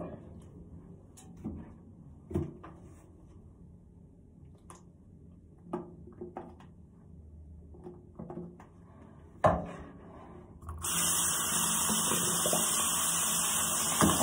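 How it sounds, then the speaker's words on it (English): A bathroom tap is turned on near the end and runs loud and steady for several seconds as hands are washed, after a stretch of quiet shuffling and a few knocks. "so I have to wash my hands"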